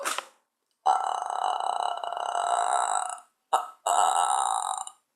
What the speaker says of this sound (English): today I'm gonna do my burping talent